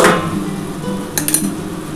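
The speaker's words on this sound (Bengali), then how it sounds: "আমি একটু ঢাকাটা দিয়ে দিলাম" A metal lid goes onto a cooking pan of frying aubergine with neem leaves, giving a brief close clink and rattle after a soft low sizzle-like hum.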